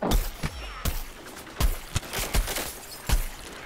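Scattered video game gunfire from Plants vs Zombies Garden Warfare pops in a run of short, irregular bursts, moderately loud against a busy game soundscape.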